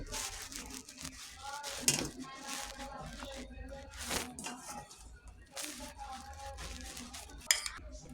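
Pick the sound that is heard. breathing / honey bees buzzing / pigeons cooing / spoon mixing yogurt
spoon mixing yogurt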